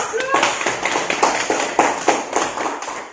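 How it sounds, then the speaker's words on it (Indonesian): Students in a classroom applaud together with quick, steady claps that keep an even beat for a few seconds. "Tepuk tangan untuk kita semua"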